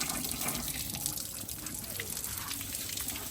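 Dirty water runs out of a tractor engine as it is washed out with water, a continuous splashing flow with people talking over it.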